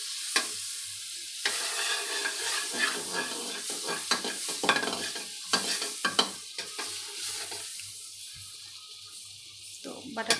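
Butter melts and sizzles in a frying pan at the start of vegetable cutlets, a steady close-up hiss broken by clinking, scraping stirs of a utensil against the pan.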